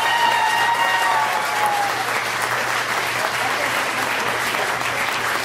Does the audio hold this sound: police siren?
no